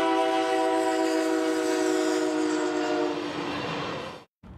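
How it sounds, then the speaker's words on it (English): A train horn blares loud and sustained along a 23-mile commuter rail line's track, a steady chord with rumbling wheels beneath that cuts off abruptly near the end. "So these train horns have been blaring over the A-line's 23-mile stretch of track"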